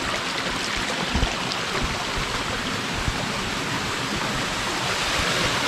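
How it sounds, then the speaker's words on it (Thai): A waterfall in a tropical rainforest roars with a steady, dense rush of falling water, loud and continuous, with no voices. "นี่นะครับน้ำตกข้างหน้า"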